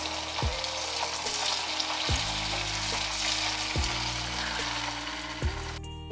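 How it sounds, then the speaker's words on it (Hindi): Balls of leftover-rice manchurian deep frying in hot oil, an even, dense bubbling sizzle throughout, with repeated low thuds from the pan, close by and without speech. "और अब हम इनको फ्राई कर लेंगे। इसको फ्राई करने के लिए हमने ऑयल को पहले से गर्म करने के लिए रख दिया था।"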